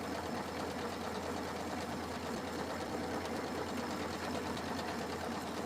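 Domestic sewing machine stitching tea towels, a fast continuous mechanical whir and rattle with a steady rhythm, heard close and faint with no talking.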